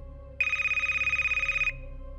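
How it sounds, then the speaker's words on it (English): A single telephone ring sounds clearly, an electronic trilling bell lasting over a second before cutting off, with a low hum beneath. "Right then, my phone starts ringing again."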